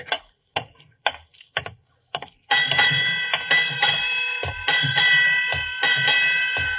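A series of sharp metallic ship's bell strikes in pairs, eight bells at midnight, ring out over a reverberant background, evenly spaced clangs decaying between each hit.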